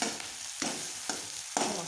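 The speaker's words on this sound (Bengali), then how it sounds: "এটা ভালো করে একটু ভেজে নেব।" Onions with salt, turmeric and cumin paste sizzle steadily in a pan, with a spatula stirring through the frying in regular strokes about every half second, close and continuous with no voice.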